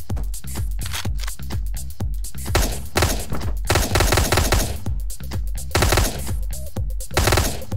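Rapid bursts of gunfire from the video game Hotline Miami, loud overlapping volleys and thuds firing in quick succession throughout, with no talk over them.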